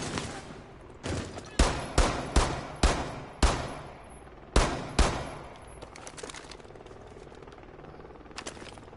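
An LMG fires in Rainbow Six Siege: a run of about seven loud, evenly spaced shots, each cracking sharply and ringing out, then a lull with faint distant rattles.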